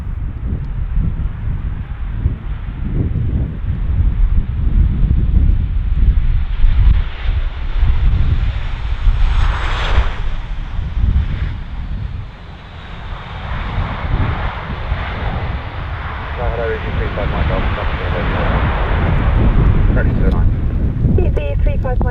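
Airliners landing at Bristol Airport during Storm Barra, jet engine roar steady and loud for the whole stretch, heavily buffeted by strong gusting wind noise on the microphone.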